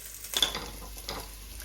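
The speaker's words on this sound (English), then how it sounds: "give the spring onions a stir if you're wanting that lovely sizzle on them" Faint, brief sizzling of spring onions in olive oil in a Ninja Foodi, with a couple of soft stirring scrapes, short and quiet.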